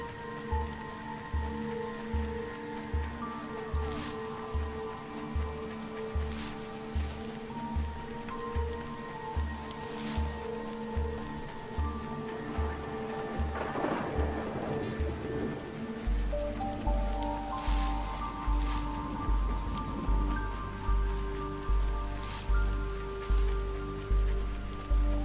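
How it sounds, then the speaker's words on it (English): Rain pattering steadily in The Swords of Ditto video game, a continuous close patter of drops over sustained musical tones and a repeating low pulse that grows stronger in the second half, no voices. "The rain sounds are nice"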